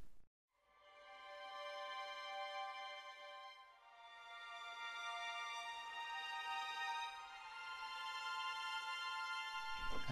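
Spitfire Audio Mural symphonic strings play soft, airy flautando sustains, a bright layered chord that holds and swells gently for several seconds with no talking.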